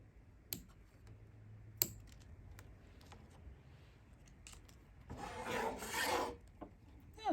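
Faint rasping of a file smoothing a sharp snipped edge, quiet scraping strokes that build into a longer rub in the second half, with a couple of sharp clicks earlier.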